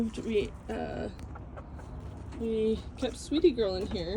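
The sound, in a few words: hen clucking in a hoop house coop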